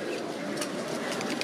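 A show pigeon at a pigeon exhibition in Wrocław coos softly within a steady hum of crowded hall noise, brief and close.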